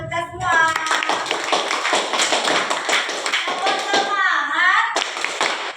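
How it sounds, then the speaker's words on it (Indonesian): A class of children in a sixth-grade science lesson claps together in quick, loud rhythmic patterns, close by, with young voices calling out over and between the claps. "Tepuk tangan buat kita semua."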